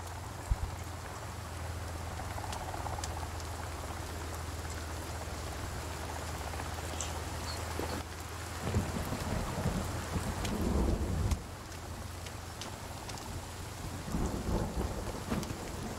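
Steady rain pours and low thunder rumbles through a stormy forest in the video game Sons of the Forest, with a constant wash of rainfall and deeper rolling swells, loudest around the middle.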